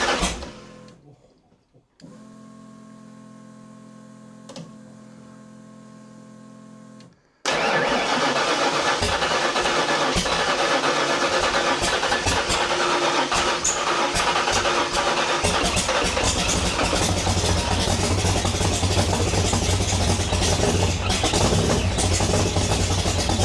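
Supercharged stroker Ford Foxbody engine starting: a starter whine and cranking, then the engine catches and settles into a loud, dense, rumbling run that continues steadily, close by.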